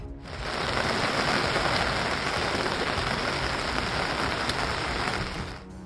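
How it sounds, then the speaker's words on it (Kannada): Heavy monsoon rain in Karnataka pours down in a dense, steady roar, drumming hard on surfaces without a break. "ಕೊಡಗಲ್ಲಿ ಮಳೆ ಹೊಡೆತಕ್ಕೆ ರಸ್ತೆ ಮೇಲೆ ಪ್ರವಾಹದಂತೆ ನೀರು ಹರಿಯುತ್ತಿದ್ರೆ"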